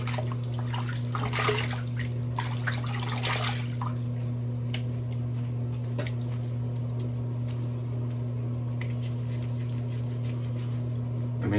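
Water runs and splashes over a freshly shaved face during a rinse, a steady close faucet stream with a strong mains-like hum beneath and brief louder splashes near the start.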